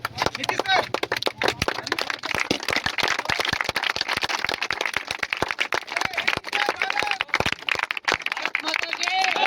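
A crowd at the inauguration of a physical training academy claps continuously for several seconds, crisp, dense hand claps at close range with voices audible beneath.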